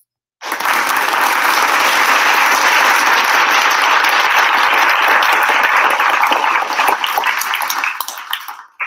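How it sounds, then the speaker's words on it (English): Loud studio-style audience applause sets in abruptly after a brief silence, a dense, steady roar of clapping that holds evenly and then cuts off sharply near the end. "give another hand clap of praise to my husband"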